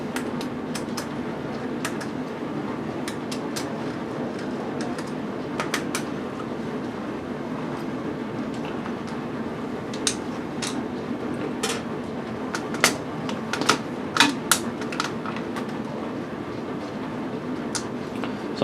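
Small metal clicks and taps of 3mm screws being removed from a sewing machine needle bar, scattered irregular ticks and scrapes that cluster more densely toward the end, over a quiet room hum.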